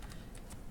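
Quick keystrokes on a computer keyboard, a few soft close clicks in a brief moment against a steady background hum.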